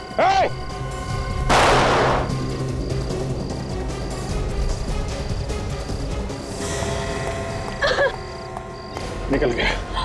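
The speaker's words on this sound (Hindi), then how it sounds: "उसने गोली तो चलाई है।" A sharp, loud gunshot cuts through frantic shouting voices, followed by continued agitated talk and scattered smaller impacts.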